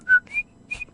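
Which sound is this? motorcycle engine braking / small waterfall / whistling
whistling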